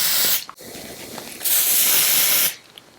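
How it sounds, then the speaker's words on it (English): Two bursts of fine airbrush foundation spray hissing onto a face, a short one then a longer one, close by, separated by brief quiet. "Sometimes I spray it on my face."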